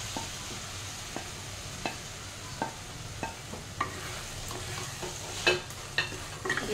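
Potato and jackfruit pieces frying in spiced oil in a pan for a Bengali-style jackfruit and prawn dish: a soft steady sizzle with a few sharp stirring clinks and scrapes spaced through it, close by, and no talking.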